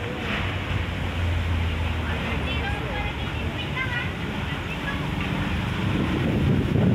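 Steady wind rushes and buffets the microphone with a low rumble at a junk shop fire with firefighters, while voices talk in the background throughout.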